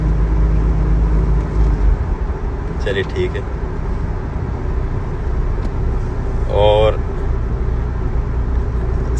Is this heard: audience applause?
no